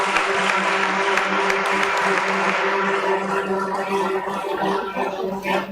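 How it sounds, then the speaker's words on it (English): Applause rolls through a room at a Bombay Stock Exchange listing ceremony for Landmark Cars, steady and fairly loud with a low hum underneath, thinning slightly toward the end. "Big round of applause, everyone."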